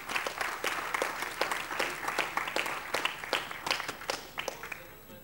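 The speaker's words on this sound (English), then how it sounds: "A big round of applause for Reggie." Audience applause at a St. John's general body meeting, a steady wash of many hands clapping close by with sharp individual claps standing out, sustained throughout and tapering slightly at the end.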